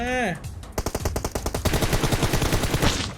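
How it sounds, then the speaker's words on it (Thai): Rapid bursts of automatic gunfire in PUBG Mobile, a fast rhythmic string of loud close shots following an opening synthetic tone, with no talk over it. "ยิงแบบทะลุหญ้า"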